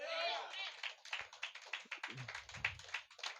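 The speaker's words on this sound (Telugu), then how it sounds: "చప్పట్లు కొడతారా?" A church congregation claps in quick, uneven bursts of sharp, fairly faint smacks that follow a brief spoken voice.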